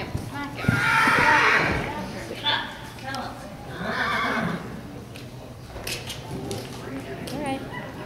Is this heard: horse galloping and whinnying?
yes